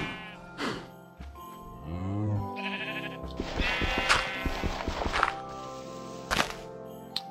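Cows in the Minecraft video game, kept in a farm pen, give several blocky synthetic moo and bleat-like calls in short bursts over background game sounds, with no talking.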